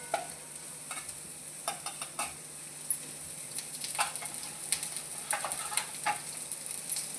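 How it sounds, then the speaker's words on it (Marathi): Onion, with a little chilli, cashew and coconut, fries on high flame, a soft steady sizzle punctuated by frequent sharp spatula scrapes and taps against the pan. "थोडंसं हाय फ्लेम करून थोडासा भाजणार आहे"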